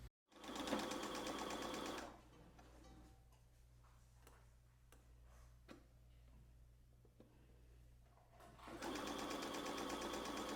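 A sewing machine stitches across a folded fabric layer, with a fast, loud, steady whirring run at the start and end and a quieter stretch of ticks and clicks between them, close and with no voices.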